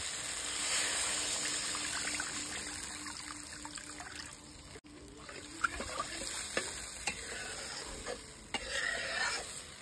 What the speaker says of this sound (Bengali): মশলাটা আমার কষানো হয়ে গেছে, আমি দিয়ে দেবো জল